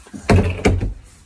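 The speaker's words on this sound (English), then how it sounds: "Move your hand so I can shut the door." A door pushed shut indoors in a home, two close solid thuds about a third of a second apart, loud and near, with no talk over them.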